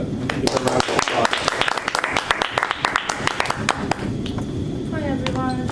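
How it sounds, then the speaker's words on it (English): An audience gives a round of applause for a speaker, dense clapping that is loud and close for about four seconds before thinning out as a voice begins to talk. "Give a round of applause."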